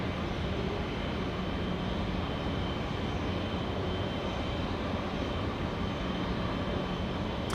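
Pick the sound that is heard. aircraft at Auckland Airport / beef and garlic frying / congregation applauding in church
aircraft at Auckland Airport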